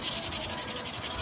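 Sandpaper rubs back and forth on a part of a Rusi Rapid 150 motorcycle being converted from drum brake to disc brake, a close, steady rhythmic scraping of quick repeated strokes heard alone.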